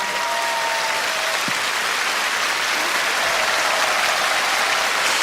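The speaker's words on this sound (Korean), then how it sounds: "송명희 시인님을 여러분 뜨거운 박수로 맞아주세요" A concert audience on a KBS open music stage warmly applauds to welcome a poet, a loud, dense, unbroken roar of clapping from a large crowd with a few faint tonal sounds early on.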